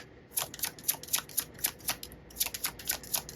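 Tarot cards drawn and flicked off a deck during a love reading, a quick run of crisp, close papery snaps and slides in an irregular rhythm with brief pauses, no voices.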